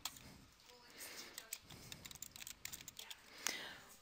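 Fingers typing a short command on a computer keyboard during an engineering software exercise, quiet clustered key clicks with a slightly louder tap near the end, over faint room noise and soft breathing.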